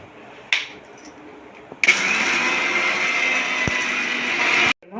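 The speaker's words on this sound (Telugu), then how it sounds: "మిక్సీ చేస్తున్నానమ్మా." A mixer grinder grinding roasted chana dal whirs loudly and steadily for about three seconds after a short rattle, then cuts off abruptly.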